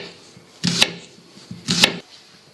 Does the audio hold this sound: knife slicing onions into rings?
yes